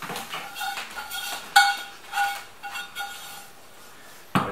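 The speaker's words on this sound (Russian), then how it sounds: "сковородку, поставим на огонь ее" A frying pan clanks and scrapes in a few sharp knocks and rattles as it is set on the stove, close by, with quiet gaps between handling sounds.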